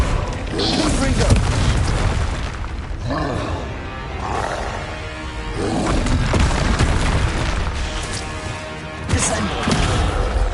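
In Hogwarts Legacy, a Confringo spell sets off loud fiery blasts during busy combat, with repeated booming bursts layered over roaring, growling creature noises and crashing impacts.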